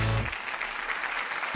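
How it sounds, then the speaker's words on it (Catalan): An audience claps in steady applause at a talent show, a dense even patter lasting under two seconds, with a voice briefly audible at the start and end. "Segueix l'aplaudiment per la Natàlia."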